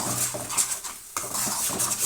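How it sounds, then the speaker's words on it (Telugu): Baby potato gravy curry stirred in a pan, a spoon scraping and clinking against the metal in a few close, uneven strokes with no one talking. "కొంచెం బాగా కలుపుతూ ఉండాలండి"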